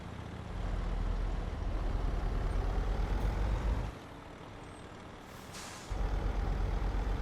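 Heavy truck engine droning steadily in Euro Truck Simulator 2, heard from a bumper view, with a loud rumble that drops off briefly and returns, plus a short hiss of air brakes releasing.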